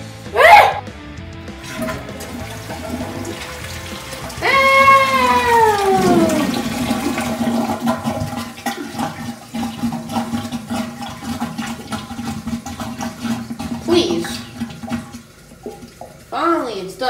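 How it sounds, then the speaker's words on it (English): A cartoonish toilet flush in a Yoshi video game sweeps downward in pitch and then gurgles into a long, quieter swirl of water, with scattered short game effects around it. "Finally, it's done flushing."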